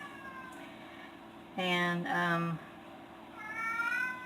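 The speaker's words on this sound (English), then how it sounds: "probably hear my cat in the background." Indoors, a cat lets out a drawn, wavering meow at moderate distance, bracketed by quieter mewing calls, while a person speaks briefly nearby.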